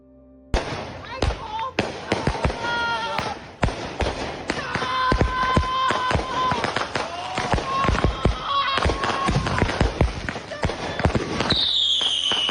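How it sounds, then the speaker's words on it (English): Fireworks exploding in a rapid, irregular barrage of sharp bangs and cracks, some loud and near, others lighter, with voices audible between and under the blasts. "Fireworks are annoying. They're loud, they scare the dogs."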